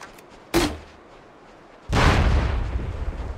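Gunfire in the tactical shooter SOCOM: Combined Assault: a sharp, close shot, then after a pause a second louder blast with a long rumbling tail, no voices.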